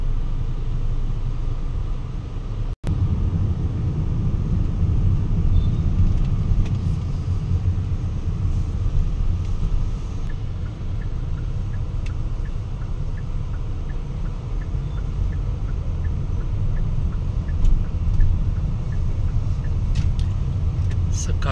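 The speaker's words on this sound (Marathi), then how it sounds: "सकाळच्या वेळेचं बिझी ट्रॅफिक आपण पाहू शकतो शहरातलं" Busy morning traffic rumbles through the central streets of Ho Chi Minh City, Vietnam, as a steady, dense roar of passing vehicles that never lets up.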